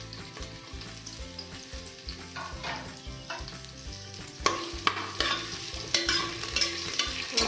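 Sliced onion frying in a pan for bagara rice gives a close, continuous sizzle with crackling bursts that grow louder and busier partway through, punctuated by scraping stirs.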